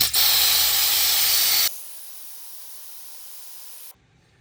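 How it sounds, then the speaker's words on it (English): Sharp, loud air hiss bleeding from a Sprinter van tire through its valve, starting at 70 PSI, running steadily for under two seconds, then dropping to a softer, thinner hiss before cutting off. "standard deflation, just using the valve to bleed off the pressure here"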